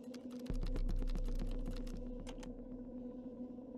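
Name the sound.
typing on a computer keyboard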